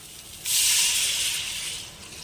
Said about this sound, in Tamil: இப்போ காய் வேகிறதுக்கு தேவையான அளவு தண்ணி ஆட் பண்ணிக்கலாம்